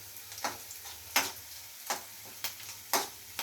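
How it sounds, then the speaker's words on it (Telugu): Green chillies and garlic frying in a pan, a low steady sizzle punctuated by regular sharp scraping strokes of stirring, close and alone without talk. "పచ్చిమిరపకాయలు మరియు ఆ ఎల్లుల్లి బాగా వేగాలండి"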